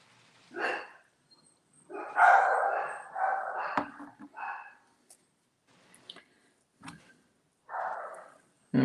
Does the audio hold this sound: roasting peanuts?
no